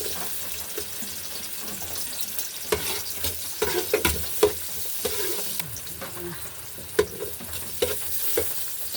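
Onions sautéing in a hot pan for chicken tinola, a steady close sizzle broken by scraping spatula strokes and a few sharp metallic taps, with faint running-water sounds in the background.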